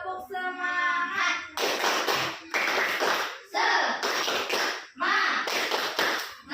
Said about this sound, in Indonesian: Tepuk semangat terlebih dahulu.